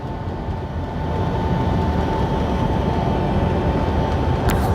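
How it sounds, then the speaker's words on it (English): Train passing near a highway between Roswell, New Mexico and Pecos, Texas, a steady, heavy rumble that builds slightly and holds, with no talking. "I think that's a train coming."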